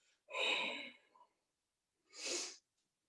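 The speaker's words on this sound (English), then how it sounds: "soft Ujjayi sound at the back of your throat" Two soft, airy ujjayi breaths drawn through a constricted throat with the mouth closed, a longer one then a shorter one, close and quiet with a pause between.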